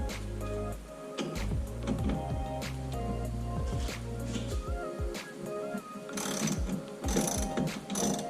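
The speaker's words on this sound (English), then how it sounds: "I have my ratchet here with my 10mm socket" A ratchet fitted with a 10mm socket clicks in quick repeated bursts while loosening the negative battery terminal on a 2010 Chevrolet Camaro SS, close and fairly loud, with metallic ticking and a few sharper clanks near the end.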